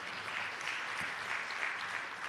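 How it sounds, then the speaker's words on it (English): A room of attendees at a public-sector launch event gives the team a round of applause, a soft, even patter of many hands heard from a distance and sustained throughout. "I think the team deserves a round of applause"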